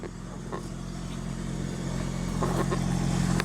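A 7 kW diesel Powertech generator aboard a 2000 Newmar Mountain Aire 4080 diesel Class A motorhome runs with a steady, low, humming drone that holds even throughout and swells slightly toward the end.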